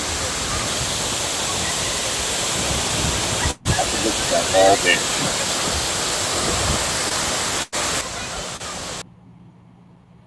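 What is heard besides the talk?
waterfall in the Philippines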